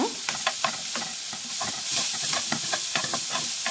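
Mustard and cumin seeds fry in oil for a vegetable curry, giving a loud close sizzle punctuated by rapid sharp pops and spatters in irregular bursts, with some stirring.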